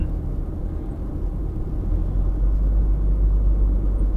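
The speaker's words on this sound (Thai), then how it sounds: "เส้นนี้รถ ก็ค่อนข้างเยอะเหมือนกัน" Steady road traffic on a busy Thai coastal road in Laem Fa Pha, Phra Samut Chedi, Samut Prakan: a continuous low engine rumble from passing cars that swells slightly louder toward the end, with no voices.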